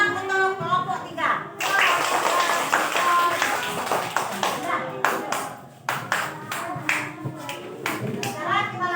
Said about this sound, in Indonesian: Nah sekarang tepuk tangan untuk kelompok 3.